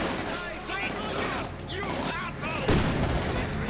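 Grenade blasts and rifle fire in the Company of Heroes 2 real-time strategy game, a dense, continuous battle din with overlapping shots and a heavier thump near the end, under a commentator's voice.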